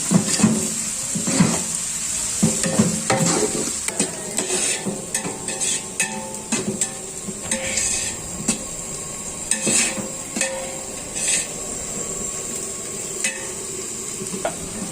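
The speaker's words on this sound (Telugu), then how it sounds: "ఇదిగోండి, ఈ విధంగా కలుపుకుంటూ ఉంటే ఇవి గోల్డెన్ బ్రౌన్ కలర్కి వస్తాయి." Onions salted and frying in a pan sizzle under frequent clattering stirs of a metal spoon against the pan, close and busy throughout with no speech.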